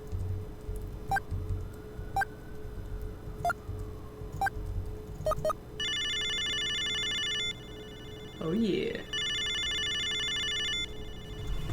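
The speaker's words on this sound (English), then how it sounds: "That 3D ringing." A video phone rings in the Snatcher Sega CD video game, two long electronic ringing bursts after a series of ticking beeps over a steady hum, with a brief voice between the rings.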